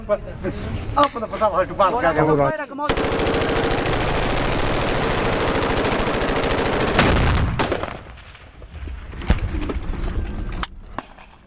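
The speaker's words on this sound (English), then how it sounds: "At the minute they're firing lots of rounds, but don't seem to be shooting at anything." Dense, rapid bursts of gunfire during fighting in Afghanistan ring out continuously for several seconds, sharp and loud, with scattered single shots and voices before and after the sustained firing.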